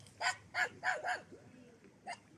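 A few short barks in quick succession, then another single bark after a pause, fairly close and moderately loud.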